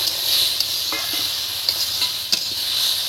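Sesame-washing water hits a hot pan of rohu fish curry with potato and eggplant, setting off a soft continuous sizzle broken by a few sharp crackles and light stirring taps; no one speaks.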